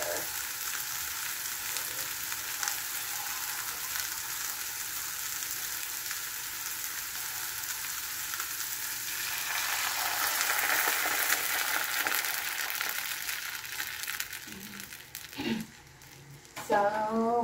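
Fish sizzles steadily in a pan after water is added, a continuous crackling hiss that swells louder midway, with a clatter of utensils near the end.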